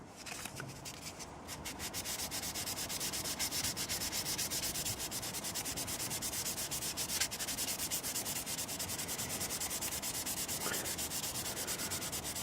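Very fine 900-grit sandpaper rubs on a knife blade being restored in a steady, continuous back-and-forth scratch that holds an even level throughout, close and alone.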